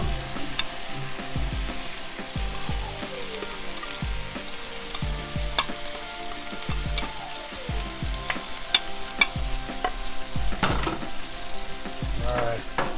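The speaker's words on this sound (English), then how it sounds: "break up our rice. Fry it up a little bit on that charred grill there." Rice and scrambled eggs sizzling on a charred grill as they are stir-fried: a steady loud frying hiss throughout, with repeated clanks and scrapes of a metal utensil breaking up the rice, and no voices.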